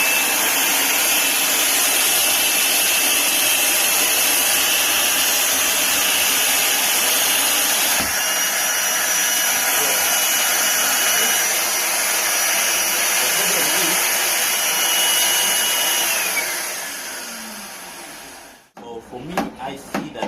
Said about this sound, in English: So I will try to switch it on so we see what's going on.